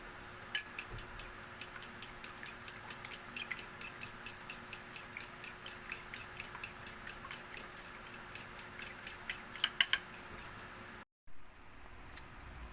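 A fork rapidly whisking eggs in a bowl, a steady run of light clicking taps that stops abruptly near the end.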